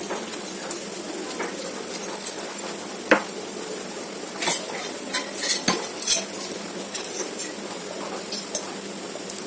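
Stirring in a pan of red chilli sauce with salt and ghee, utensil scraping and clinking against the cookware in irregular bursts, fairly close, with faint background bird calls and no talking.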